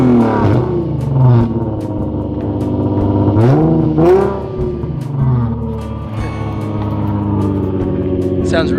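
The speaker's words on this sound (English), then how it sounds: "It has a killer exhaust on it." An Infiniti car with an aftermarket exhaust revs repeatedly, loud and close, in a series of sharp rising and falling blips with a burbling rumble between them; voices talk over parts of it.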